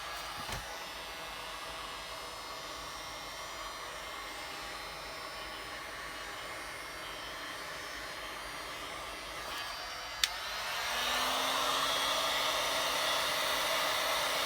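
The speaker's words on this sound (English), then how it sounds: "I'm gonna get my heat gun out now." A heat gun blows hot air over a resin turtle with an ocean scene, a steady rushing hiss that runs throughout and grows louder and fuller near the end as the gun comes closer.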